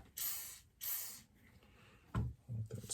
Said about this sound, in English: I'll spray a little WD on it